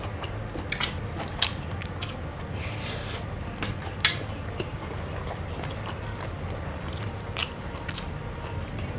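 Crunchy bites into apple snail eaten with Lao tamarind-like fruit (mak lin mai), repeated sharp crisp crunches spread over several seconds, close to the mic with steady low background noise and no talking.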